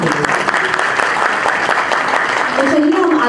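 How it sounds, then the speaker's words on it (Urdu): Audience applause for a reader at an Urdu poetry gathering of Bazm-e-Adab in Atlanta; loud, close, continuous clapping from a crowd with some talk rising toward the end. "تو بھرپور تالیاں آفرین کے لیے"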